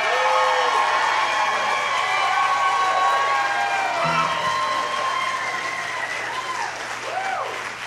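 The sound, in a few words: crowd applauding and cheering for young drummer Ryder Markham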